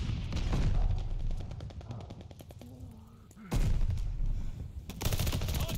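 Rapid automatic gunfire from a Call of Duty Hardpoint match, dense bursts of shots rattling continuously with a brief lull mid-way before loud volleys resume.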